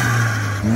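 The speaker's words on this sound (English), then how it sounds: "Can we get another rev?" A custom turbocharged Chevrolet Malibu engine gives a brief rev, a short, close whirring engine note that rises and dips in under a second.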